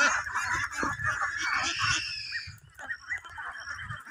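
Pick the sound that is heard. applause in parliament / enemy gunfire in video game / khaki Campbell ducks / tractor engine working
khaki Campbell ducks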